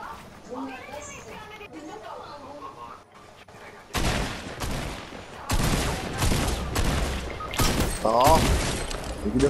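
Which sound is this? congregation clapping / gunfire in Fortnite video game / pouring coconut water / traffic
gunfire in Fortnite video game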